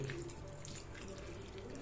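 Water pours into rock salt in a steady, quiet stream, running continuously at close range with no talking.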